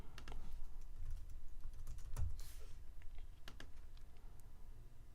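Steady typing on a computer keyboard while entering a domain name, with a fast run of close, crisp key clicks and a few louder keystrokes, no talking.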